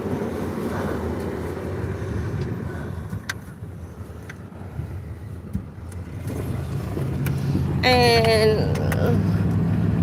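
Steady road traffic rumbles past at a small-town Fourth of July parade in West Texas, a broad continuous hum that swells louder near the end, with a sharp high tonal whine and brief speech mixed in.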